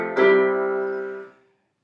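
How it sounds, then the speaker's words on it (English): One sustained note from a cheap electronic keyboard's thin, tinny piano voice, sounding alone and fairly quiet before fading out after about a second. "This is the sound of a terrible piano"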